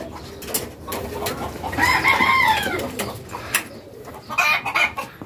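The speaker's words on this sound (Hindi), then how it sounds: "ये देखिए कुछ मुर्गियाँ, कुछ मुर्गे हैं और सारी मिक्स नस्ल की हैं।" Mixed-breed hens and roosters in a coop cluck and call, with one bird giving a long rising crow midway and more crowing near the end, over a busy background of scattered clucks and scratching.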